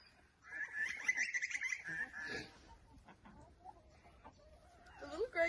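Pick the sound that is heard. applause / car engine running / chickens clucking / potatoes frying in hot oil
chickens clucking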